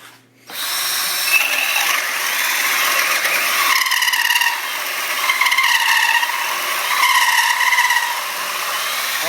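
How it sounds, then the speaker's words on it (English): A Ridgid X4 18V cordless drill drives a 2-inch hole saw through material, a loud continuous whining cut that rises and falls in pitch as the load changes, steady from start to finish with no talking. "We'll go through with the 2-inch hole saw"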